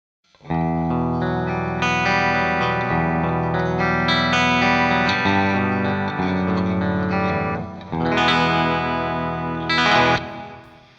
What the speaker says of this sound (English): Lastly, some of that split coil sound